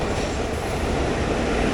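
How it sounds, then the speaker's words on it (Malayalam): The Malabar Express rolls into platform 1 at a station, a dense, loud, continuous rumble of wheels and carriages filling the whole moment with no voices. "ഇതേ പ്ലാറ്റ്ഫോം നമ്പർ 1 മലബാർ എക്സ്പ്രസ് കയറി വരുന്നു."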